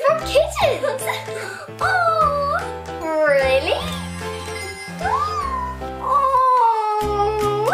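A toy kitten meowing in a Frozen-themed Olaf adventure playset, several high, drawn-out mews in close succession, loud and near, with a voice chiming in between them.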